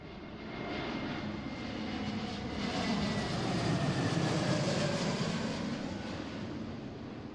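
An airliner jet comes in to land at Seattle airport, its engine roar building to a steady loud rush before easing slightly as it passes, with no voices over it.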